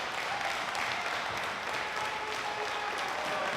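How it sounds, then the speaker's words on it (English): An indoor crowd at a wrestling show in Bay City, Michigan cheers and applauds steadily throughout, a dense wash of clapping and shouting with no break. "Crowd encouraging them to start fighting, stop dancing."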